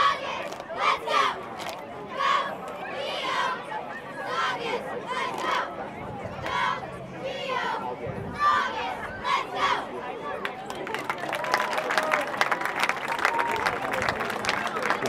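Cheerleaders chanting and shouting at a youth Pop Warner C Team football game, a loud crowd of voices with rhythmic bursts that swell into sustained cheering and noise toward the end.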